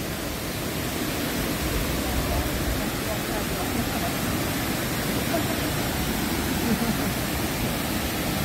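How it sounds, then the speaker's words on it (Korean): Kuang Si Falls in Luang Prabang, Laos pours down in a constant, broad roar of rushing water that holds steady without pause. "여기는 광시 폭포입니다."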